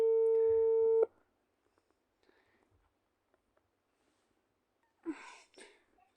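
A steady telephone busy tone sounds loudly for about a second during a call and then cuts off, followed by near silence and a brief breathy noise at the end.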